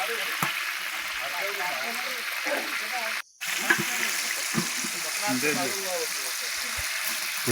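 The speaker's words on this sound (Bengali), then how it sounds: "তেলে টমেটোও ছেড়ে দিল।" Tomatoes frying in hot oil for pilaf at a village feast: a continuous crackling sizzle with stirring, heard under ongoing talk, broken by one brief dropout.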